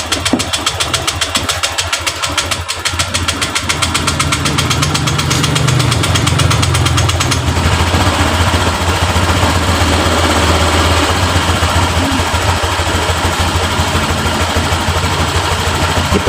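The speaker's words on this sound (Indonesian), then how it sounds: "Kita nyalakan mesin" A Honda Vario LED scooter engine with stuttering, stalling trouble idles loudly and steadily up close, a rapid putter whose pitch shifts partway through as the idle RPM is raised toward 1400 to 1500.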